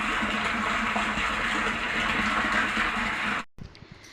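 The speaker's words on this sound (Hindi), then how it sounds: "टंकी पे ओ माय गॉड पानी आ रहा है, तेज आ रहा है," Water gushes fast and steadily into a rooftop water tank, a loud, continuous rushing and splashing that cuts off abruptly near the end, leaving faint background noise.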